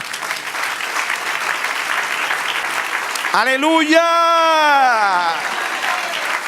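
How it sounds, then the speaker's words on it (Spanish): A church congregation claps steadily throughout a worship service while a single voice rises over the applause with a long, drawn-out exclamation. "Dar un aplauso al Señor"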